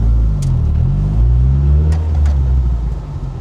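A Lotus Elise S1 sports car engine rumbles low and steady at close range as it is parked, with a slight swell of revs midway and no talk over it.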